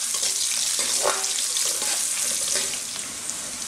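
Chopped tomato goes into a pan of frying onion and garlic for Filipino beef and cabbage sauté, bringing a steady, close sizzle with a brief stirring clatter partway through and no talking.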